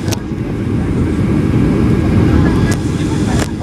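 Airplane cabin noise on the landing approach, a loud, steady low engine roar and airflow rumble filling the cabin without a break, with faint clicks here and there.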